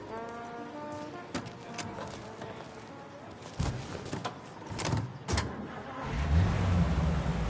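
A car driving in the video game Mafia Definitive Edition, with a steady engine rumble running under dialogue between two voices and a few louder bumps and a swelling low drone toward the end.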